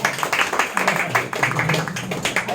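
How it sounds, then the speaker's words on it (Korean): Applause at a company shareholders' meeting: a room of people clapping in a dense, steady patter of many overlapping claps, fairly close and loud throughout. "평가 우수 받았다. 박수 한번."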